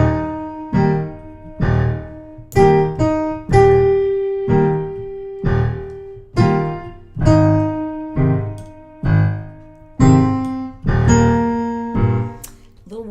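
A woman plays Amazing Grace on a church piano, slow separate chords and melody notes ringing out one after another, clear and close with no talking.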